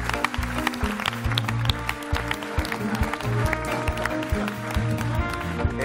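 A studio audience applauds a guest on an Italian TV show, dense sustained clapping with music-like tones underneath, steady and moderately loud throughout.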